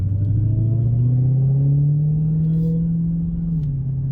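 A sports car engine hums steadily and rises in pitch as it accelerates under light throttle, a continuous close rumble without speech.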